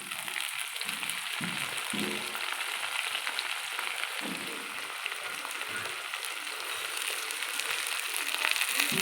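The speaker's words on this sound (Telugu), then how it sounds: "ఆనియన్స్ ఇలా వేగిన తర్వాత ఇందులో చికెన్ లివర్ ముక్కలు" Chicken liver pieces frying with onions in a pan, a dense, steady hiss of sizzling oil with a few low stirring thumps, close and continuous without talk.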